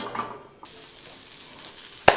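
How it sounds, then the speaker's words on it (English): Butter sizzles softly in a pan on the stove while shrimp scampi is being cooked, a faint, steady hiss that ends with a sharp utensil clatter. "All right, we got that going. It's sizzling."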